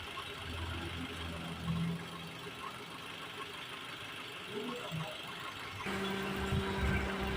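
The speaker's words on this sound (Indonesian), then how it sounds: "Ini motor Extravan berputar pada suhu 98 derajat Celcius ya" An Extravan engine idles steadily at operating temperature while its radiator is being bled, a low continuous hum and rattle, growing slightly louder and rougher near the end.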